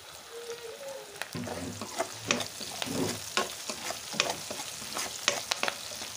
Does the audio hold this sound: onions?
yes